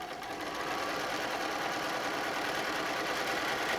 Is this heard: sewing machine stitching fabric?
yes